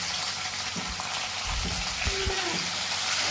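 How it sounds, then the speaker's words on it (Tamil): Tomatoes with curry leaves sautéing in a pan for a tapioca dish, a steady close sizzle and crackle with occasional soft stirring knocks, continuous throughout. "தக்காளி நல்லா மிக்ஸ் பண்ணி விட்டு அது வதங்குற வரைக்கும் அப்படியே வந்து விட்டுருங்க"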